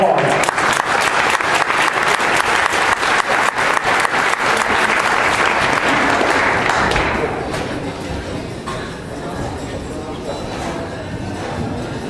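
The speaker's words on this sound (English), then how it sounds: "Give them a round of applause." Audience applause at a high school opening ceremony, a dense sustained clapping that fills the room for about seven seconds and then fades into softer scattered claps and crowd murmur.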